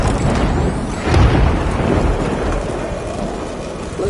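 Heavy rain pours steadily through a thunderstorm in the video game Death Stranding, with a deep rolling rumble of thunder swelling around the one-second mark and then easing back into the constant loud downpour.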